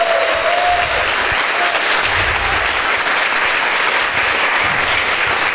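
A crowd of supporters applauds at a political speech in Bahia honouring MST women occupying the INCRA office, with steady, dense clapping throughout and no speech over it.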